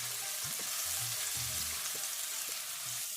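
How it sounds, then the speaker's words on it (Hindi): Chopped garlic sizzles in hot oil in a wok, a steady bright frying hiss with a few soft stirring knocks, close and alone without talk. "लहसुन को हल्का सा फ्राई करेंगे।"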